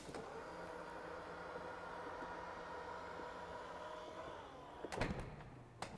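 Powered tailgate of a Range Rover Sport moving with a smooth, steady electric motor hum, ending in a couple of latch clunks and thumps; quiet and close, with no talking.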